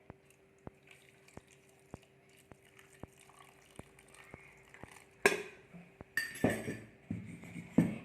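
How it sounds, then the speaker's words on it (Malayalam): Cold water is poured into a drink mixture in a home kitchen. Faint, regular ticking comes first, then a sudden clink and a loud, rushing pour that stops and starts over the last few seconds. "ഇതിലോട്ട് ഞാൻ കുറച്ച് തണുത്ത വെള്ളം ഒഴിച്ച് കൊടുക്കട്ടെ"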